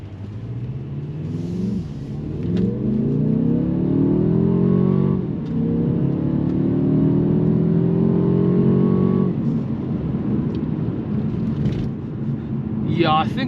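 A 2023 Mercedes-Benz CLA 250 4MATIC coupe pulls away from a stop with steady engine acceleration, the pitch climbing and dropping at two clear gear changes, heard from inside the cabin.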